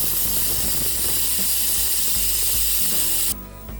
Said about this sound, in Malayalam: വിജയകരമായിട്ട് ഫസ്റ്റ് വിസിൽ വന്നു